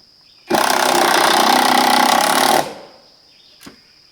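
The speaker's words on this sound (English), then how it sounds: "I'll be able to drive the screws in" A cordless power drill drives screws while mounting a wireless security camera off grid, one steady, loud whirring burst of about two seconds, then a short tail and a faint click.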